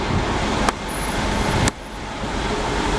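Steady traffic rumble fills the Terminal Ubung bus terminal in Denpasar, with vehicles idling and passing at moderate distance and two brief sharp knocks breaking the wash.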